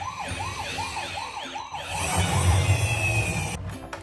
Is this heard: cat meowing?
no